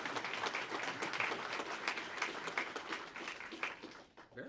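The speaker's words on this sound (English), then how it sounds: "Let's give them a round of applause." Audience at a police awards ceremony in Pasadena applauds, a sustained wash of clapping that tapers off toward the end.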